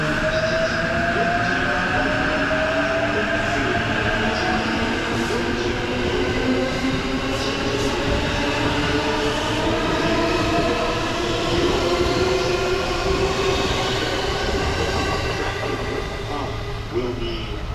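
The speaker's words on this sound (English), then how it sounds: "let's enjoy the departure of this modern long-distance EMU" A modern E353 limited express electric multiple unit pulls away from the station with a steady roar of motors and rolling wheels. It rises gently over time, loud and close throughout, with some voices faintly in the background.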